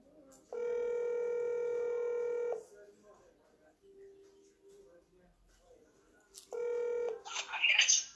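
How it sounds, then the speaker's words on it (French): A phone call being placed, with two long steady electronic tones separated by a quiet gap, and a short burst of noise at the end. "c'est elle que je vais appeler maintenant"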